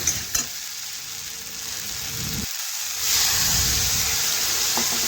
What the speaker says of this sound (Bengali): একটু আলু গাজর ভেজে নিচ্ছি